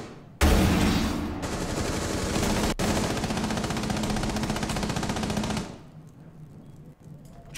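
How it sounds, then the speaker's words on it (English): Sustained automatic gunfire in Rainbow Six: Siege on the Grim Sky map, a loud, dense, rapid burst lasting several seconds with one brief break before it stops and leaves near silence. "Where am I getting shot from?"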